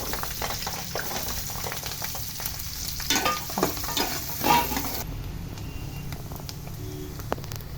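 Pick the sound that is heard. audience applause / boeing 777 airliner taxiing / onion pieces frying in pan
onion pieces frying in pan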